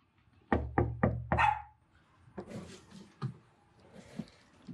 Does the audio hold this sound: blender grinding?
no